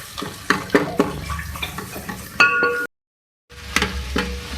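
Ginger garlic paste frying in a pan for dal chawal, with a close crackling sizzle and repeated metallic stirring clinks, cut by a brief silent gap before the frying and scraping resume.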